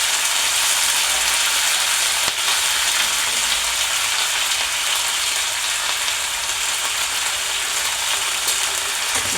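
Drumstick leaves frying in a pan with chana dal: a continuous loud, hissing sizzle that stays steady throughout, with one brief clack partway through.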